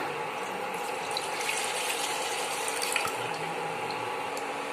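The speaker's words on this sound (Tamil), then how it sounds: "இப்போ தேங்காய் பாலை இதில் சேர்த்துக்கலாம்." A steady liquid rush of coconut milk pouring into a pan runs for several seconds at an even level, heard close with no talking.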